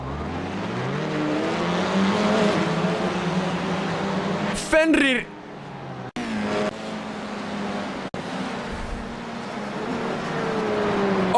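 A race car at a Long Beach championship round is in trouble after a tyre broke. A loud engine roar runs under excited commentary, with a sudden harsh burst of noise midway and brief dropouts afterward.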